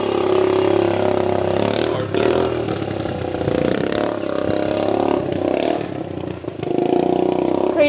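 A KTM motorcycle engine revs loudly and steadily close by, with clattering mechanical noise mixed in and no talk.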